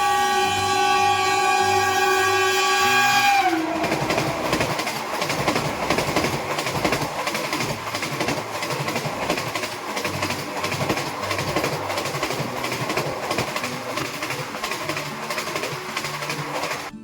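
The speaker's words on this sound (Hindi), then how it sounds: "अभी हम ट्रेन में बैठे हैं और हमारी यात्रा शुरू हो चुकी है।" Inside a moving Kalindi Express passenger train in India, a steady rumble with continuous rhythmic clickety-clack of wheels over rail joints, preceded by a brief sustained horn-like tone at the start, no talking.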